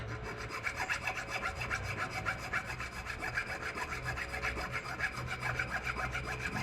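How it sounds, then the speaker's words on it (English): A hand file working a bushing on a VW Beetle front spindle, a fast steady back-and-forth rasping at close range, evenly rhythmic and uninterrupted, with no voices. "what I'm going to do is just file down the bushing just where it's in that slot"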